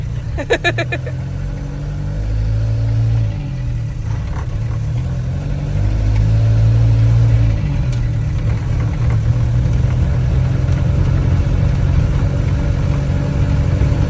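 A 1975 Ford Transit MK1 diesel van drives steadily, its low engine drone and road rumble continuous and close throughout, rising slightly in intensity midway, with a brief clatter near the start.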